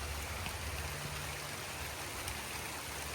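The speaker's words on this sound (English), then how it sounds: "it's starting to rain." Light rain falls outdoors as a faint, steady hiss of drops, soft and even throughout with no voices.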